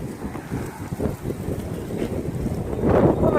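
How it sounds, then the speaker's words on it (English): A strong gale buffets the microphone outdoors in Copenhagen, a loud rumbling roar that swells and gusts, building toward the end. "it is blowing a gale again today and it's freezing"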